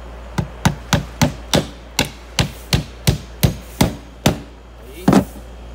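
A hammer drives nails into wood on a job site, a steady run of about a dozen sharp, ringing blows at an even pace, close and loud, with a final pair of quick strikes after a short pause.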